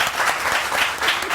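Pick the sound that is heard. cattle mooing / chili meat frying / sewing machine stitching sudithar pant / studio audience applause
studio audience applause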